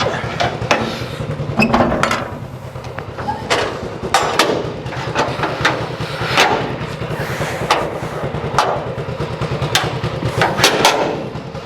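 A Honda CT90 motorcycle engine idles and putts steadily, close and loud, with regular sharp exhaust pops and thumps repeating across the whole stretch and no talking over it.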